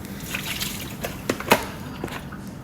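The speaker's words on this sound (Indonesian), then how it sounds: "Setelah kita cuci dengan air mengalir" Pork being rinsed under running water in a kitchen, giving a soft, steady trickle and splash with a few brief louder drips and knocks, close and fairly quiet.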